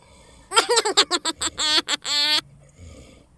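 A sick, feverish cow with a cold breathes close by in a rapid run of rough snoring-like breaths, rasping in a quick uneven rhythm, then fading to quiet.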